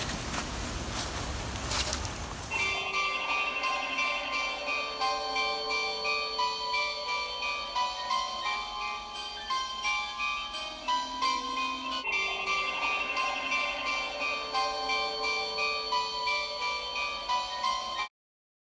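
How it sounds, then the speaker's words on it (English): Bright, layered bell tones ringing continuously with a sustained shimmer, following a short burst of noisy rumble at the start. "I hear the bells."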